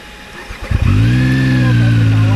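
A ZONTES 703F motorcycle engine starts up and settles into a steady, loud, close-up idle with a deep harmonic drone, preceded by brief mechanical clatter.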